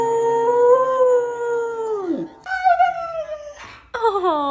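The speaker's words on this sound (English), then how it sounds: "Oh, you growling at me?" A dog howls at close range in long, wavering tones that rise and fall. Short breaks and vocal shifts sit between the howls, and the level stays loud throughout.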